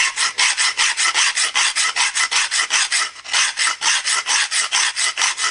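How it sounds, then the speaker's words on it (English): A half-round file worked on its flat side rasps across the edge of a metal air-cannon barrel tube, producing a steady run of loud, even back-and-forth strokes, about five per second, with no talking. "the half round file, using the flat side"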